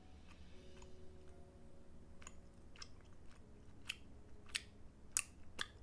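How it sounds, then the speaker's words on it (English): Someone chewing food near the microphone, with faint, irregular crunchy clicks and soft mouth sounds over a low hum, growing slightly sharper toward the end. "I hope my chewing isn't loud."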